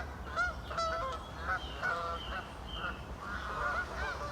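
A flock of Canada geese honks repeatedly on a lake at Burghfield, overlapping calls at middle distance over a low outdoor rumble, loud and continuous with no speech.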